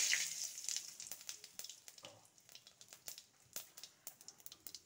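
Cumin seeds and a bay leaf sizzle in hot oil left from frying fish, a close, crackling spatter with an initial hiss and scattered sharp pops throughout.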